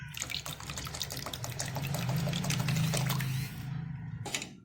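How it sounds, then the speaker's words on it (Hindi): Water pours steadily into a pot of lentils (dal) cooking for mixed dal, a close, continuous gushing splash that thickens in the middle and then stops abruptly near the end. "मैंने अपने हिसाब से पानी डाल दिया।"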